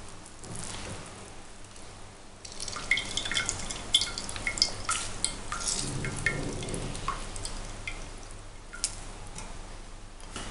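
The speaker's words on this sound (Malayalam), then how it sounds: "അപ്പം ഇങ്ങനെ പ്രസ് ചെയ്ത് നോക്കുമ്പം നല്ല പാല് വരുന്നുണ്ട്." Coconut milk drips from hand-pressed grated coconut, a soft, close patter of irregular drops and trickles, fairly faint and with no one speaking.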